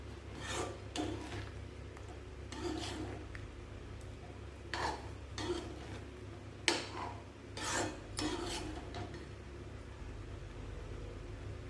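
A spoon scrapes and rubs through bun halwa in a pan in rhythmic strokes, each a short rasping sweep, close and moderately quiet with no voices.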